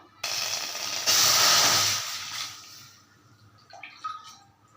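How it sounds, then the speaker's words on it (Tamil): Water pours onto rice flour in a heavy pan, a steady rushing splash that swells loudest for about a second, then thins to faint trickles and small clinks near the end. "அதுக்கு ஒன்றரை பங்குக்கு தண்ணி ஊற்ற போகிறோம்"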